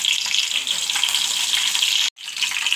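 Curry leaves hitting hot oil in a pan, a loud, bright, continuous crackling sizzle close up, broken by a brief silent gap near the end, with no one speaking.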